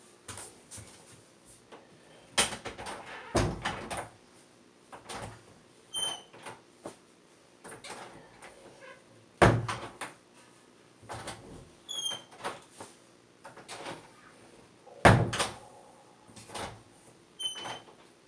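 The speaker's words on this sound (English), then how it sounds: "today I open and close my bathroom door" A bathroom door opened and closed several times, with sharp latch clicks and thumps at irregular intervals, a few faint hinge squeaks, close by in a quiet room.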